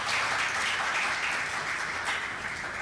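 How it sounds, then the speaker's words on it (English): Delegates at an African actuarial congress give a round of applause, a sustained, fairly even crowd clapping that carries steadily and tapers slightly near the end. "So a round of applause for them again."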